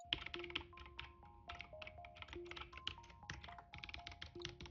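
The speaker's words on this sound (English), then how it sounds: "you can hear the typing." Steady typing on a computer keyboard, fast irregular clicks and taps continuing throughout, close and fairly quiet, with no voices.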